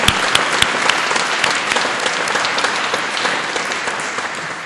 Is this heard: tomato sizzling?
no